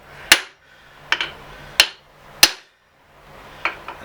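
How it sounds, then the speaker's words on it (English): A set hammer striking to shape facets on a bolt head held in a vice, six sharp metallic blows at an uneven pace, close and ringing, with quiet gaps between them. "I can sit here with a set hammer."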